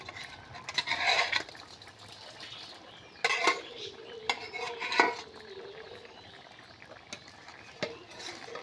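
Pieces of kodor and tilapia fish slide into a thin curry broth in a pan, with metal clinks and clattering spoon scrapes in short bursts, then quieter bubbling, close by.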